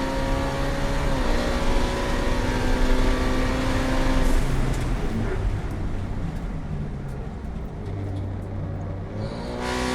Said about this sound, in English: So here you just heard the transmission downshift